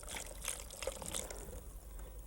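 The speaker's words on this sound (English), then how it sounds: "And just pour it in here with my melted butter." Milk poured from a container into a bowl of melted butter, giving a soft, steady trickling and splashing of liquid, quiet and close throughout with no talking.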